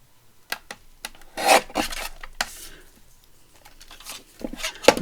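Kraft paper being trimmed by hand into a pocket for a botanical ring binder, heard as a few short rasping cuts and scrapes spread over several seconds, close and fairly quiet with no speech.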